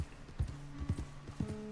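Wild horses' hooves clip-clop in Red Dead Redemption 2, with a few loose, rhythmic hoof strikes at a moderate distance and no talk.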